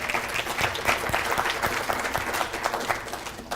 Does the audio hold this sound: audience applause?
yes